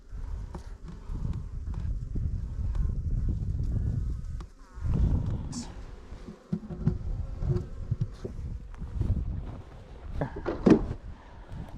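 Steady, dense buzzing of many honeybees up close in a hive lid, a continuous droning hum with a few brief dips and some handling knocks.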